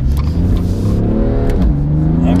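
A BMW M3's exhaust revs hard and loud up close, the engine note rising and falling in a quick pair of throttle blips and holding steady throughout.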